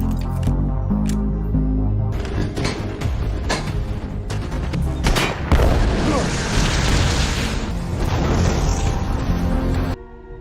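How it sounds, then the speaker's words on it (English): A film explosion blows apart a drug production facility, a loud, dense roar with bursting booms and crackling debris that swells through the middle and keeps rumbling before cutting off abruptly. "Gordon destroyed the drug production facility with an explosion"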